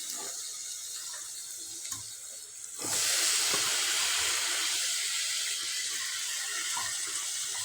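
Mutton added to a pan of turmeric, coriander powder and garam masala for a village-style mutton curry bursts into a loud, steady close sizzle after a brief quieter stretch, with a few faint clicks.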